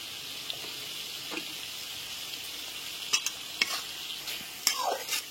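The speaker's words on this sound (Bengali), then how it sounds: "গ্যাসের ফ্লেমটা মিডিয়ামে রেখে মশলাটাকে খুব ভালো করে কষাতে হবে।" Spiced masala for chicken keema khichdi fries over a medium gas flame in a pan, a continuous close sizzle broken by several sharp scrapes and knocks of a spoon stirring, with no voices.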